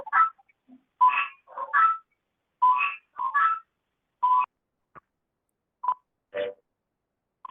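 Tones from an unmuted phone on a group call sound as a scattered series of short, clear beeps and warbling keypad-like chirps, several quick bursts separated by silence.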